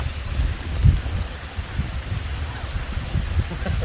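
Steady rain patters on a surface as a broad, even hiss at a fishery, with low rumbling thumps and indistinct voices underneath.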